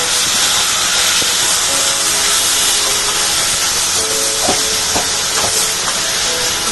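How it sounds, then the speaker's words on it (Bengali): Taro stolons (kochur loti) frying in hot mustard oil with whole cumin in a kadai, a loud, dense steady hiss with a few spatula knocks and scrapes near the end. "কচুলতিটা নাড়াচাড়া দিয়ে"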